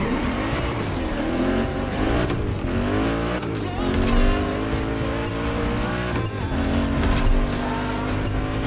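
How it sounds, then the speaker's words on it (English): A car drifts through mountain hairpin turns in The Crew Motorfest's Made in Japan racing, its engine revving continuously with rising and falling pitch and a loud, steady roar mixed with tire squeal. "Drifting is the best way to take sharp turns without losing speed."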